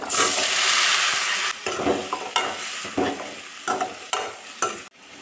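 Chinese potato (koorka) pieces stirred into sautéed onions in a hot pan: a loud steady sizzle at first, then a run of scraping, clattering stirring strokes over a quieter fry, alone with no talk.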